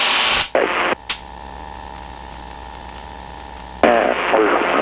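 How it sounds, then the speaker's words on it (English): Radio static and white noise hiss loudly over the Unicom aviation frequency, clipped off in short bursts at first, then settling into a quieter steady hum with a tone before the loud hiss comes back near the end. "awful lot of noise on the Unicom"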